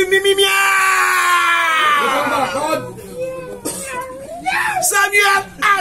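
A voice imitating a cat, three drawn-out meows, delivered loud and close amid mocking political chanting in Haitian Creole.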